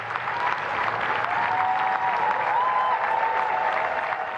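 Crowds greet the arrival of new Labour Prime Minister Burnham and his wife Marie-France with continuous loud applause and cheering, a dense, steady roar of clapping that carries through the whole stretch.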